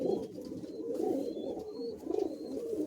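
Madrasi pigeons coo nearby in soft, repeated rolling phrases that rise and fall, with faint chirps above and a low background murmur.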